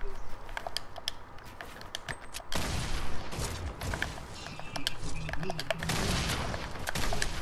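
Rapid gunfire in a first-person shooter video game, with bursts of shots and booms that grow louder partway through and continue densely over a steady background.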